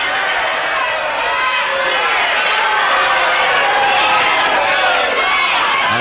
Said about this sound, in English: And there's the crowd all for Veidor.